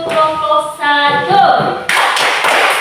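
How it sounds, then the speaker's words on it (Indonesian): A classroom group gives a brief round of clapping in rhythmic bursts over a couple of seconds, loud and close, with voices chanting along. "Tepuk salut untuk kelompok 1."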